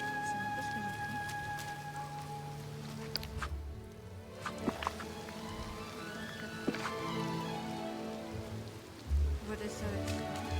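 Steady rain patters on a surface throughout in Disney Dreamlight Valley, with a few sharper drips and knocks and faint tonal game sounds in the background.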